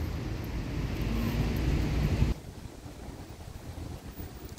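Wind buffets the microphone outdoors on a sunny day, a loud rumbling gust for about two seconds, then drops sharply to a quieter rustling breeze.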